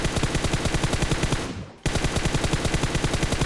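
Rapid, continuous automatic gunfire in PUBG Mobile rattles loudly, cuts out briefly with a falling whoosh, then resumes at the same fast rhythm.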